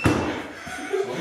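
A cabin door yanked open with a sharp, close thud at the start, followed by a brief rumbling rattle and room noise.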